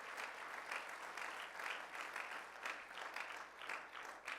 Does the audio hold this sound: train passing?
no